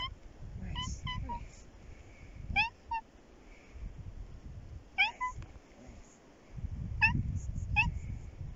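A cat meows several times in short, high calls between low rustling and handling noise, close by, with people talking softly nearby.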